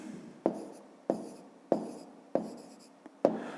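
Pen on paper writes out a math solution in five or six distinct strokes, each a sharp tap followed by a scratchy fading trail, close and clear in a quiet room.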